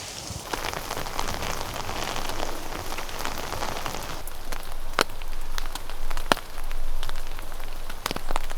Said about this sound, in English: hunker down and enjoy the sound of the rain